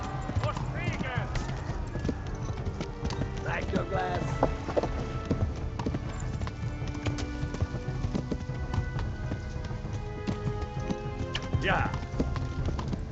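Horse hooves clip-clop at a run in the video game Kingdom Come Deliverance, a steady rhythmic pounding with brief whinny-like calls, heard under someone talking throughout.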